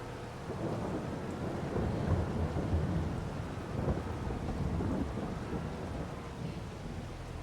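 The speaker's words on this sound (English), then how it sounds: "I did not expect this rain to happen." Steady rain in Farming Simulator hisses over a low rumble of thunder that swells and fades, fairly faint and continuous, with no voices.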